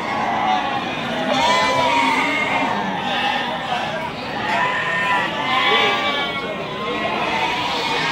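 Goats bleat amid the constant crowd noise of a busy livestock market, with wavering calls rising over a dense hum of voices and movement throughout.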